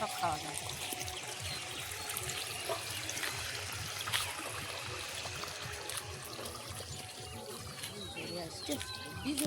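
Water is poured over cumin plants in a home garden, a faint, continuous trickling splash running throughout under people talking in Bengali.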